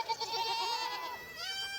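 A herd of about 15 to 20 escaped goats bleats continuously, with several overlapping nasal, wavering calls close by and no talking.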